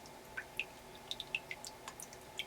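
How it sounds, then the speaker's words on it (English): A small indoor water feature trickling and dripping, with soft irregular drops falling one by one over a quiet steady background, close and gentle. "I have my little water feature going, and it's actually making me drowsy, I think"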